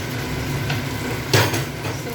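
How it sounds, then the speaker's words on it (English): Tomatoes and onions stir-fried in a pan for a chatpatta egg tarka, giving a steady close sizzle with scraping and stirring, and one louder clatter of a utensil partway through. "Here, tomatoes and onions are getting stir-fried."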